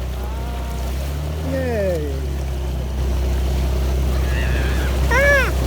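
A motorboat engine runs on the water while the boat gets moving, a steady low drone under people's voices with a brief cheer.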